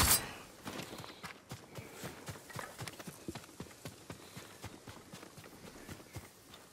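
Horse hooves clip-clop in a steady, fairly quick walking rhythm in the video game Ghost of Tsushima, moderately close and clear, each hoof strike a sharp distinct knock, with no voices.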